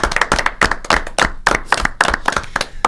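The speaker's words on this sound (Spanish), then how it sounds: "Aplaudimos a Pablo." A small audience applauds at a storytelling contest results event, with crisp nearby claps in uneven bursts and a rhythmic, fairly loud pattern, with no talking.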